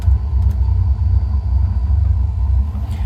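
An aircraft rolling down the runway after touchdown in Microsoft Flight Simulator 2022: a steady, heavy engine rumble with low tyre roar, loud and continuous, with no talking.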